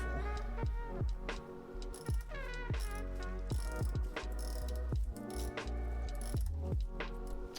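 Seized screws, loosened with a heat gun, are being unscrewed on a sailboat with a ratcheting tool, giving a close, loud run of rapid clicking ratchet strokes with metallic rattles, no voices.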